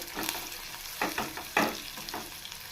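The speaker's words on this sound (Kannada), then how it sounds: "ಈರುಳ್ಳಿ ಚೆನ್ನಾಗಿ ಫ್ರೈ ಆಗಬೇಕು, ಬ್ರೌನ್ ಕಲರ್ ಬರೋವರೆಗೂ ಫ್ರೈ ಮಾಡ್ಕೋಬೇಕು." Onions frying in a pan for a garlic tomato chutney, a soft steady sizzle broken by several sharp scraping stirs of a spatula, fairly close and without talk.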